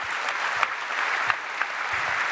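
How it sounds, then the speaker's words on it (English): Audience applause at a political campaign group's second anniversary event in London, steady dense clapping from a crowd with a few sharper claps standing out. "So if you could give him a round of applause."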